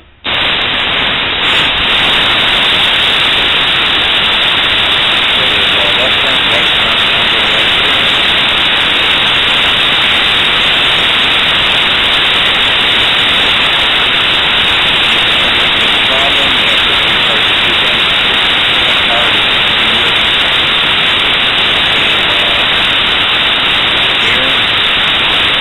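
Loud, steady broadband hiss of air escaping from a tire valve on a 2006 Chevy Impala outdoors in cold weather, continuous and unbroken for the whole stretch after a sharp start.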